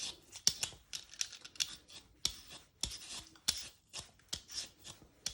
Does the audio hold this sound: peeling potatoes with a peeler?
yes